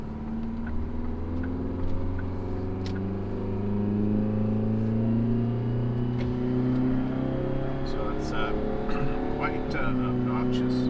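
A loud Detroit Diesel 4-53 turbo truck engine without a muffler idles and rumbles continuously, its deep throbbing drone holding steady with a slight rise in pitch toward the end.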